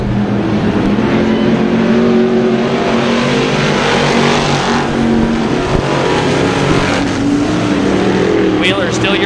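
Sportsman modified race cars roar around a track, a loud steady wall of engine noise with shifting pitch as cars pass, under a commentator's continuous play-by-play.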